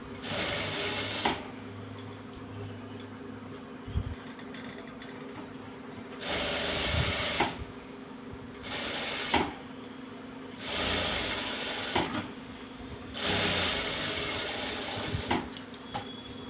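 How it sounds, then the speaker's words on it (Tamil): A sewing machine runs a rough tacking stitch on an embroidered blouse lining in short bursts of rapid mechanical whirring, separated by brief pauses and soft handling clicks, close and alone. "அப்படியே வந்து ரஃப் தையல் போட்டுக்கலாம்"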